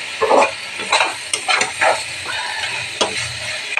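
Pointed gourd and shrimp fry in a pan, loud close sizzling with bursts of spatter and the scrape of a spatula stirring every second or so, no voices.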